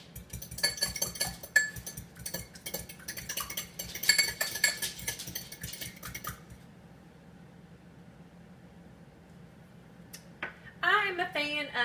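A metal fork clinks and scrapes quickly against a bowl while beating raw eggs, a busy rattling run that stops partway, followed by quiet and a voice speaking near the end.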